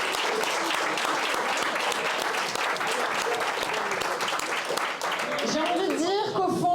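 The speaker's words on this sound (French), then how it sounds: "Vous pouvez vous applaudir." Participants at France's first escape game cup applaud themselves, a loud, dense round of clapping and cheering that holds steady, with voices rising out of the crowd near the end.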